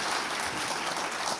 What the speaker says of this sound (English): It was a slow pity clap is what I heard